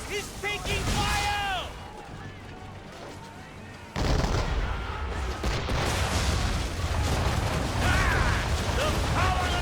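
Naval cannon fire strikes the ship Belladonna in a fog-bound sea battle against the French Navy in Assassin's Creed III: loud, repeated booms and crashing impacts with a steady rumble beneath, and raised voices shouting over the din.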